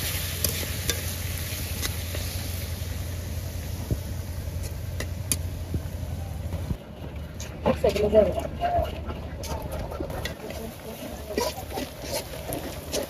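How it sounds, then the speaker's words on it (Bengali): Onion, ginger and garlic fry together in a pan for fish polao, giving a steady low sizzle with occasional stirring clinks, close by, while birds chirp faintly in the background partway through. "পেঁয়াজ আদা রসুন খুব সুন্দর মতো ভাজা ভাজা হয়ে গেছে"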